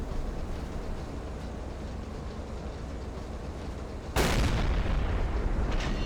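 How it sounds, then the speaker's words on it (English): An explosion goes off suddenly on a ship's stern during a naval battle in Silent Hunter 3, a loud booming burst that cuts through a steady rumbling engine drone and then lingers as a heavier roar. "There was a big explosion on the stern."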